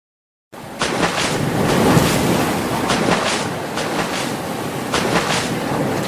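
Cartoon ocean waves wash against a seashore after a brief silence, a steady rushing surf with gentle swelling surges and a windy hiss.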